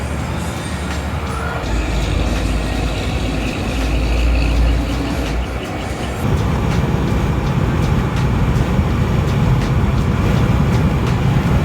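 Volkswagen Mk7 GTI driving after a gas tank repair, heard from inside as a loud, steady low engine and road rumble with wind and tire noise, the drone shifting and swelling partway through, with no voices.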